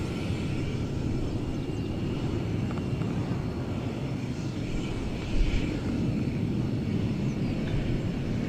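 An American Airlines Airbus A321 arrives at night at DFW Airport with a continuous low jet rumble. The sound stays at an even, moderate level throughout, with a brief bump near the end.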